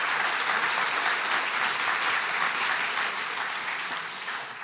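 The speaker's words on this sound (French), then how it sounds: "Je crois qu'on peut les applaudir." Sustained applause from an audience after a round-table session at a coaching symposium, a dense, steady wash of many hands clapping that fades slightly toward the end.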